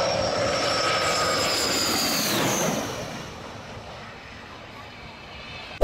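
A loud N-294 military jet roars overhead with a high, whining engine tone, then recedes into a fading rumble as it passes by.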